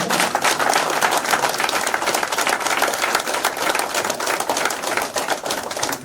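Seminar audience claps loudly and continuously for several seconds, a dense, even wash of many hands applauding in an indoor hall.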